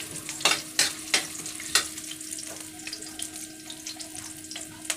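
Ginger sautéed in a pan for Filipino tinola gives a steady, close sizzle with sharp scraping strokes of a spatula early on, then a quieter hiss.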